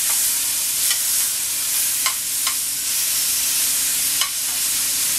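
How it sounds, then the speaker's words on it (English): A hanger steak sears loudly in a hot pan, a dense continuous sizzle up close with a few sharp clicks of tongs or spatula. "we're going to let it sear up on the next side as well"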